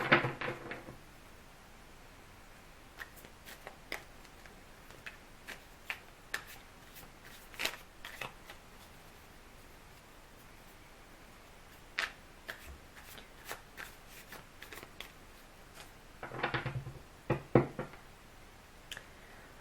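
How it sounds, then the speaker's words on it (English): A tarot deck is shuffled by hand in a quiet room, with scattered sharp riffles and card snaps coming in short bursts separated by pauses, clustering more densely near the end. "just give it a quick shuffle"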